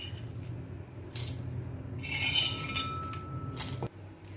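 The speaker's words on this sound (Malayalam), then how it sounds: "ഇതൊരു മിക്സിയുടെ ജാറിലേക്ക് മാറ്റി കൊടുക്കുകയാണ് ഈ ഒരു ടൈമിൽ" Roasted chillies and cashews are scraped from a pan into a mixer jar, giving short bursts of metal scraping and clinks against a faint background hum, with no one talking.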